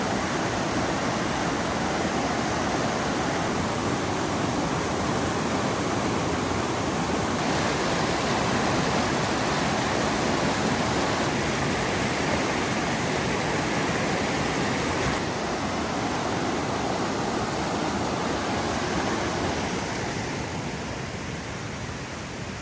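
The Zigzag River rushes past the north-bank viewing area of Tollgate Campground, a steady broadband roar of flowing water heard alone and close, holding constant before easing slightly toward the end.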